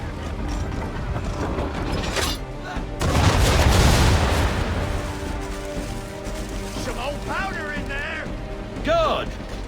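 Ship-mounted swivel guns in Assassin's Creed III fire sharp booming blasts at sea, one big burst swelling loudly, then fading into rumbling, with a voice talking over the action.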